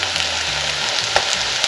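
Potatoes frying in a pan with black pepper and cumin for an Odia aloo methi, a steady, dense sizzle with no pause and a faint crackle rising briefly, close and continuous.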